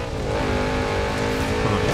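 A Subaru engine accelerating in Forza Horizon 4, a steady loud drone that rises slightly in pitch, close and continuous for two seconds with no talk.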